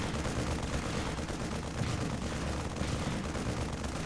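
Dense, continuous weapons fire and explosions from a Dawn of War Unification battle between Imperial Guard and Black Templar forces, a loud, unbroken roar of gunfire and blasts.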